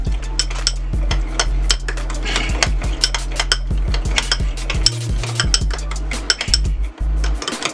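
A utensil stirs creamy French dressing and pickle relish in a bowl for salmon cakes, giving repeated scraping clinks and taps against the dish in an uneven rhythm, close and clear, without talk.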